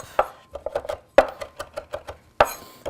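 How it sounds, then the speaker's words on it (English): A knife chops fresh tarragon on a board, with sharp, crisp cuts in quick bursts and a few louder strikes between lighter taps, close up and with no voices. "Let me just mince that up. Let me get a knife. We'll give it a little chop."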